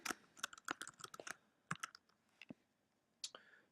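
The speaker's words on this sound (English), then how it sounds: "I just type in John Steinbeck and then The Pearl." Typing on a computer keyboard, quick close key clicks in bursts with short pauses, fairly quiet.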